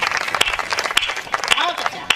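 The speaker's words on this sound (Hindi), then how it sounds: "अब तालियां होनी चाहिए" Audience applause at a comedy poetry show: a dense wash of clapping fills the whole short stretch, with a few sharper claps standing out and a voice talking over it.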